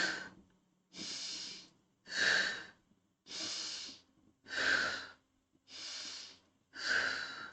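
Slow, deep breaths during a face yoga exercise, seven even breaths in and out, each a couple of seconds of airy rushing with short pauses between, close and soft.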